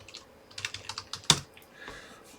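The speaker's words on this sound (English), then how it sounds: "Let me do my little typing here." Rapid, uneven keystrokes on a computer keyboard, close and clear, with one sharper louder key strike near the middle and a softer clatter afterward, no voices.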